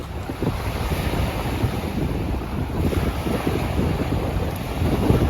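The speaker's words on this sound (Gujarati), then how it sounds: "મોજા ઉછળે જાણે" Waves surging and washing on a large lake at Moose Jaw, Saskatchewan, a loud continuous rushing wash with gusty wind buffeting the microphone, no voices.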